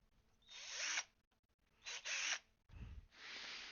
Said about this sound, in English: go in with the Dremel